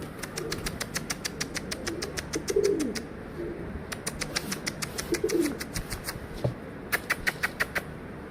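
Pigeons on a rooftop coo in several soft, low phrases, with a steady run of sharp clicking or tapping nearby and a little wing movement, all close and clear.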